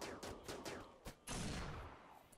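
Gunfire in a Rimworld colony battle: a rapid burst of sharp shots, several cracks in quick succession, then a louder blast that rings out and decays, all fairly loud with no talk.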